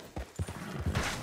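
Horse hooves clopping in Red Dead Redemption, a few quick uneven thuds at close range over a steady game background, with no talk.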